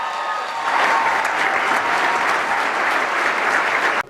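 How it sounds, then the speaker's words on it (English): Crowd at a 2008 John Edwards campaign event applauds for Jackson Browne and Bonnie Raitt. Loud, dense applause swells quickly, holds steady, then cuts off abruptly. "Can we get another round of applause for them?"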